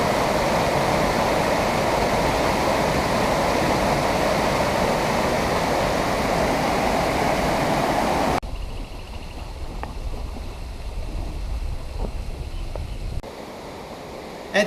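The waterfall at Amelia Cascades in Vanuatu, seen from the bottom, gives a loud, steady roar of falling water that abruptly drops to a softer, more distant rush partway through.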